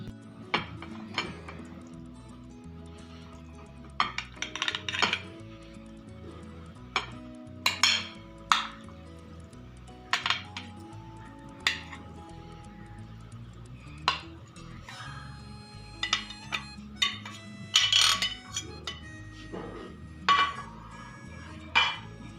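Chickpea and black-eyed bean chaat is served out with a spoon, giving scattered clinks and taps against a dish and cutlery, quiet and irregular with pauses between strikes.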